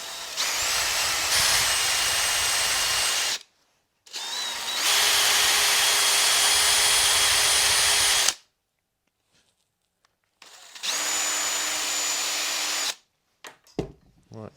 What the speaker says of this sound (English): If in doubt, drill it out.